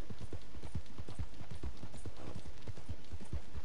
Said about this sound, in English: my horse brought it back to life